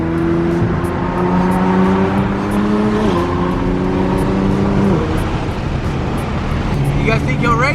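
A car engine revs hard and accelerates, a loud, close, continuous drone whose pitch climbs and then drops in steps, as if shifting gears, before surging again near the end.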